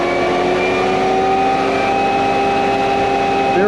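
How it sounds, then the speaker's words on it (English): A shotcrete boom pump's engine running flat out at maximum RPM, producing a loud, steady, close drone with a constant pitch that holds for the whole stretch. "All right, Thomas, pump on when you're ready. Engage maximum RPM."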